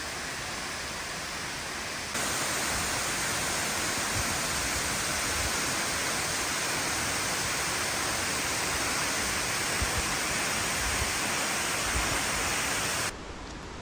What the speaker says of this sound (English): So here's a shot of the waterfall, and I am getting out of here.